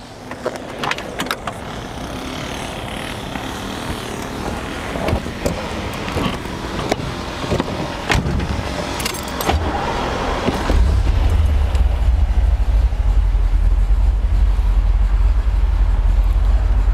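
A 1971 Corvette LT1 convertible engine starts and settles into a steady, deep idle at the end, following a stretch of clicks, handling noises and ambient outdoor sound.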